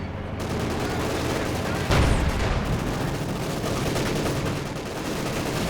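Machine guns in a Company of Heroes 2 battle, a dense continuous rattle of gunfire with a heavier boom near the start and steady battle noise throughout.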